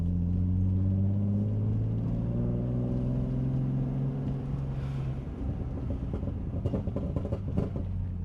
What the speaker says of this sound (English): Exhaust sounds exactly like the Ti did, and that's because it is the Ti exhaust.